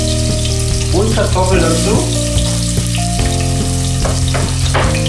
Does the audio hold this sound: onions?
yes